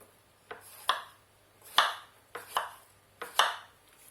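A knife slices unpeeled organic courgettes into even rounds on a board. There are about seven crisp, distinct cuts in an irregular rhythm, each a sharp tap with a short swish, close and clear with quiet between strokes.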